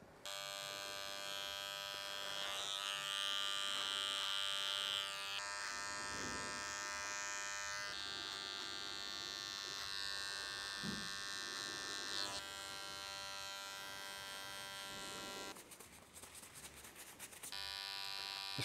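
Electric beard trimmer buzzing close up during a beard trim, a steady high-pitched motor whine that shifts in pitch as it moves and presses against hair, with a brief change in tone near the end.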